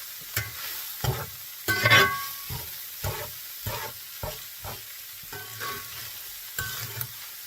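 Ground meat for spaghetti meat sauce keeps cooking in a hot cast iron skillet with the heat off, heard as a low sizzle broken by repeated short scraping bursts of stirring.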